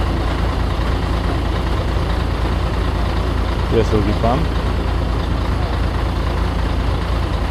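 A concrete mixer truck's diesel engine idles steadily throughout, a dense low rumble under brief conversation between people nearby.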